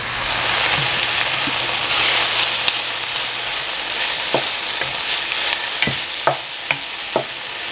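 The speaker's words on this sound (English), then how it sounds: "Okay, now I'll add my peppers to that." Peppers fry in a hot pan with a constant loud sizzle, broken by several sharp scraping knocks from a utensil stirring them, the clatter growing more frequent toward the end.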